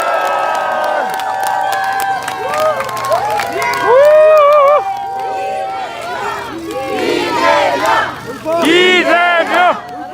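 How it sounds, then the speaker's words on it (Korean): A crowd at an outdoor election rally cheers and shouts loudly, voices rising in excited waves with whoops and a chant, mixed with clapping and a nearby voice over the din. "힘찬 박수로 환영해 주십시오"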